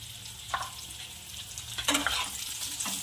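Green chillies frying with salt and crushed peanut powder are stirred in a pan, with a steady sizzle and several spoon scrapes and clinks, close and moderately loud.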